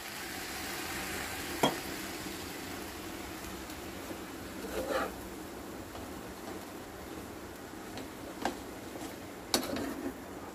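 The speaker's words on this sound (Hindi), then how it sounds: "अब हम इसके अंदर थोड़ा सा दूध ऐड करेंगे। और इसको हम अच्छे से मिक्स करेंगे।" Roasted almond halwa in a pan is stirred after milk goes in, giving a faint, steady sizzle with soft scraping and a few sharp clicks of the spoon against the pan.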